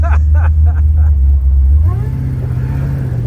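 A supercharged Pontiac GTO engine rumbles loudly at idle, then revs up with a rising growl that holds steady, close by, with faint voices under it.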